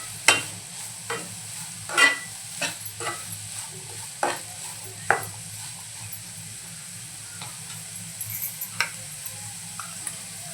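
French beans fry in a pan with a soft sizzle while a spoon stirs them, giving about a dozen sharp scraping ticks at irregular intervals. The sound is close, fairly quiet and carries no talk.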